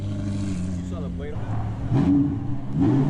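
A sports car engine rumbles and revs in rising surges, loud and nearby at a car show, with people talking over it.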